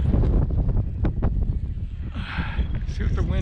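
Wind buffets the microphone on a kite-flying outing, a low, rough, gusting roar that persists under people talking throughout.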